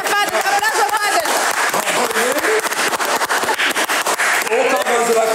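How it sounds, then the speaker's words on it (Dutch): Clapping for fathers breaks out during a casual Dutch talk-show conversation: dense, loud applause and cheering mixed with several people talking over it throughout. "Applaus voor vaders."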